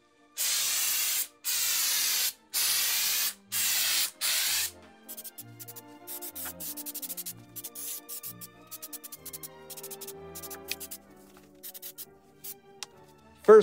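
Aerosol can spraying texture coating onto a cracked vinyl car dashboard in light coats: five short, loud hissing bursts in an even rhythm, followed by quieter clicks and handling noises.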